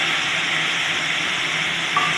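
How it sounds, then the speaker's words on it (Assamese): Tomatoes frying in a pan for a spiced tomato dish give off a steady, close sizzle that holds at an even level throughout, with no voices. "বিলাহীখিনি ধুনীয়াকৈ গলি যোৱাকৈ ভাজি ল'ম।"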